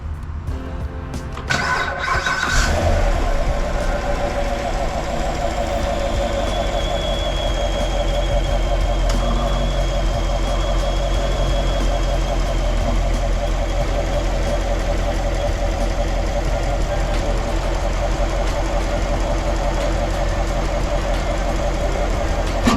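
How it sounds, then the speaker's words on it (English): A Chevrolet C7 Corvette V8 with its factory airbox cranks and fires, then settles into a loud, steady, close idle that runs on alone for about twenty seconds. "I'm gonna give you a little rev of how it sounds now with the factory airbox"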